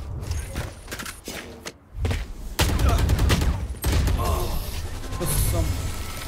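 Gunfire in the shooter game Valorant: several sharp shots and short bursts, loud and close, mixed with thuds and footsteps, while a voice talks over the action.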